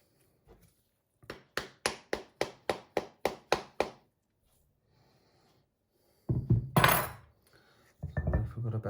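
Hammer blows on a classic Mini ball joint during a front suspension ball joint renewal: about ten sharp, evenly spaced metallic strikes close by, then a pause and louder rough clattering and knocking.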